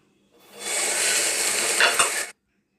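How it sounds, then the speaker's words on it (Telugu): Chopped onions with a pinch of salt are stirred in a cooking pan, giving a steady scraping sizzle with light metallic clinks that runs about two seconds, then stops abruptly. No one speaks. "ఉల్లిపాయలు వేగడానికి కొద్దిగా సాల్ట్ వేసేసి అంతా ఒకసారి కలిపేసుకుంటున్నాను"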